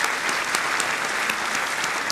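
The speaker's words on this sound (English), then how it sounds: "So that is worth an applause" An audience at the Positively Milwaukee awards ceremony claps loudly and steadily, a thick burst of applause filling the room with no talk over it.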